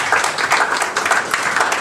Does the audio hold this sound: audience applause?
yes